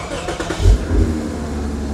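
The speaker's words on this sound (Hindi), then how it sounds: "अब अंदर आते ही आपको सबसे पहले तो गाड़ी स्टार्ट करके दिखा देते हैं" A Toyota Mark X 350S car engine starts with a short, deep crank and then catches into a steady, close idle rumble.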